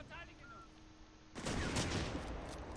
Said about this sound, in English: they're taking some heavy machine gun fire